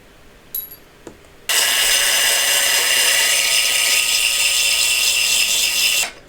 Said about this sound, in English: I also got a power file for a little more finesse.